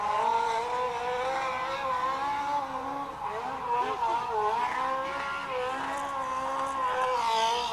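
Race car at a Sunday test and tune session, engine revving hard and sustained as it smokes its tires, a loud continuous roar with shifting pitch that holds for the whole stretch.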